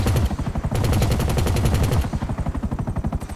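Rapid automatic fire from mega cannons in GTA Online rattles out in fast continuous bursts, loud and close, with a brief shift in tone partway through before the firing carries on.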